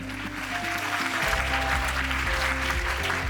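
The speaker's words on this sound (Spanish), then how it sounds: "Recibamos con un fuerte aplauso a Nuria Mateo." An audience at an orientation event applauds to welcome speaker Nuria Mateo, with sustained, even clapping across the room and a low steady tone underneath.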